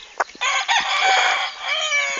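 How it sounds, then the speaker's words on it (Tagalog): Fierce farm roosters crow loudly and close, one long sustained cock-a-doodle-doo ringing out after a few short clucks. "Muni mga isog nga mga manok dari"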